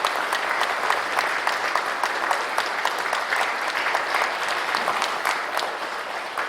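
A Catholic Mass congregation claps loudly and continuously to congratulate children at their first communion, a dense, even roar of many hands with faint voices underneath.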